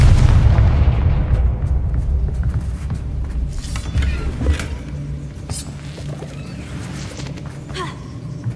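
A Confringo fire-spell blast in the Hogwarts Legacy video game sets off a sustained, heavy rumbling boom that starts loud and slowly decays over several seconds, with crackling debris and faint game effects trailing behind.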